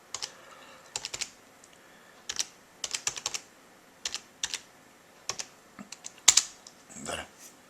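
A computer keyboard being typed on in short bursts of close, crisp key clicks with pauses between them, then a louder clack and a brief rustle near the end. Nobody speaks.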